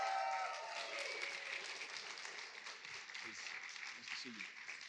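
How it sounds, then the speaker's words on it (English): A live audience at a masterclass with director Paul Thomas Anderson bursts into sustained applause, a dense wash of clapping from a crowd that starts loud and stays steady, with a few voices murmuring underneath. "please give a round of applause for Paul Thomas Anderson"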